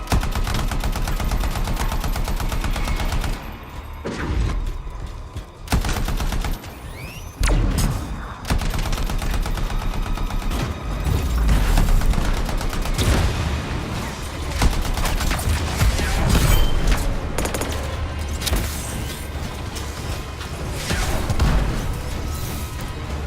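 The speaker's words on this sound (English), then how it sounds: "That's a sick little fire attack right there." Combat in the video game Anthem, with a dense barrage of rapid gunfire, blasts and booms during a fire attack, loud and continuous with brief dips in intensity.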